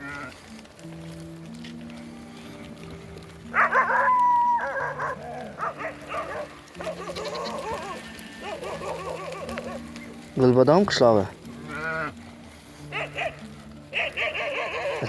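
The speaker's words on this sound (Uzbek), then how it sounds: "Itlarim kelyapti orqamizdan." Several village dogs bark and yip repeatedly while following people along a path, the barking near and intermittent, mixed with someone talking and occasional birds.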